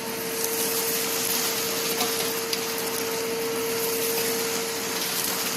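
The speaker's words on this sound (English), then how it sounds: "So it's dry to wet, and it just vacuums up everything" A DeWalt wet/dry shop vacuum runs over concrete in a loud, constant close-up roar with a steady tonal hum, and faint ticks of debris are sucked up along the way.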